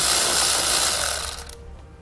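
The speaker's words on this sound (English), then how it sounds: "we're going to grab a 7mm socket and we can pull those out" A ratchet with a 7mm socket backs out bolts holding the grille on a 2017 Jeep Cherokee, a close, loud run of rapid mechanical clicking that slows and cuts off after about a second and a half.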